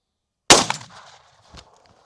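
A single shotgun blast from a Malen dispersant cartridge fired at a 35-metre target rings out sharply after a moment of silence, decaying quickly, followed by a faint knock.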